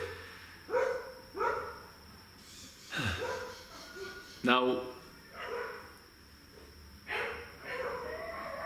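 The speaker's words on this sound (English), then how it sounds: "my dog's howling." A dog howls and barks in several separate bursts, some with falling, drawn-out tones, heard near and moderately loud under intermittent talking.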